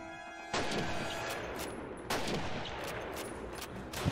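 Gunfire from Call of Duty (the original) during a WWII tank battle against Panzers, a T-34 mission: loud rounds fired in steady bursts, with sharper cracks near the start and around two seconds, no talk.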